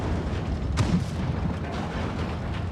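In the WoT Blitz tank game, a tank shell penetrates armor with a single short, muffled boom. The hit sits inside a dense, continuous battle rumble and engine drone, with no talk.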